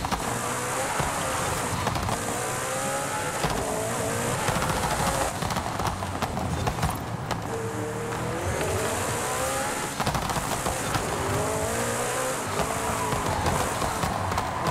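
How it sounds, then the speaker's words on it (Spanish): In the video game Forza Horizon 5, a car drifts hard, its engine revving up and down in long sweeping waves under a steady hiss of tire squeal. The sound stays loud and close throughout. "Buen derrape"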